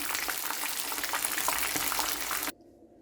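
Fish frying in hot oil for homemade fish and chips, a loud, steady crackling sizzle that cuts off abruptly near the end.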